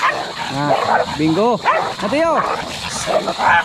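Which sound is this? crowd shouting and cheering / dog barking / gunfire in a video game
dog barking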